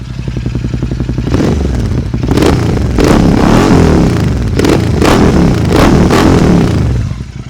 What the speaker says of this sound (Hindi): अब मैं आपको एग्जॉस्ट की आवाज सुनाता हूँ।